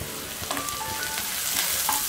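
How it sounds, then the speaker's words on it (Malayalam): Onions and curry leaves fry with a pinch of salt in a pan, giving a steady crackling sizzle with occasional stirring clicks and scrapes. The sound stays close and even throughout, with no voices. "പെട്ടെന്ന് ഒന്ന് ഫ്രൈ ആയി വരാൻ കുറച്ച് ഉപ്പ് ചേർക്കുന്നുണ്ട് കേട്ടോ"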